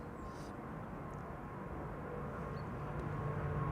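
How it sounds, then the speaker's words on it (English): A wide-body KLM jet, a triple-seven bound for Willemstad Curaçao, roars down the runway at Amsterdam Schiphol on takeoff, a steady distant engine rumble that slowly swells, with no talking. "the wide bodies taking off from this runway right now"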